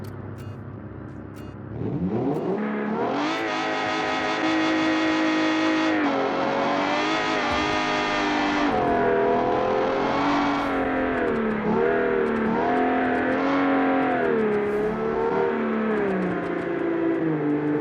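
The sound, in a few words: video game car engines accelerating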